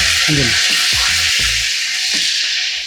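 Mustard seeds, urad dal and curry leaves splutter in hot sesame oil, giving a steady loud sizzle broken by several sharp crackling bursts as the leaves hit the pan, close up with no voices.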